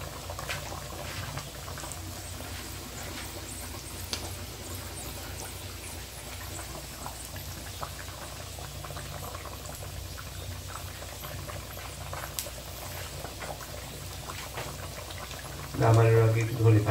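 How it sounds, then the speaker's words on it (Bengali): A pot of fish curry simmers at a steady, low bubbling boil on the stove, a continuous soft murmur throughout, with a brief louder clatter right at the end. "এদিকে মাছটা ফুটে গেছে"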